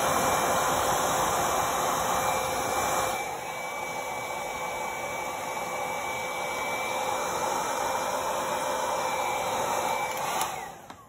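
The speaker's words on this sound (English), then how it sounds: "just blow that out with my blow dryer on low" A hair dryer on its low setting blows with a steady, loud whooshing hiss that eases slightly after a few seconds and then cuts off near the end, used to blow ColourArte paint across a small canvas.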